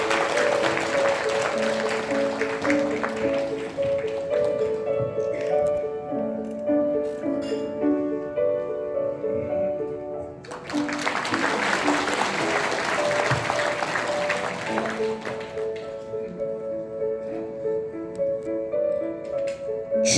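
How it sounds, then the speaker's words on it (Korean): Sustained audience applause at a book launch event greeting a voice actor, filling the hall for about twenty seconds beneath steady background music with sustained tones, dipping briefly midway before swelling again. "여러분 큰 박수로 맞이해 주시면 감사하겠습니다"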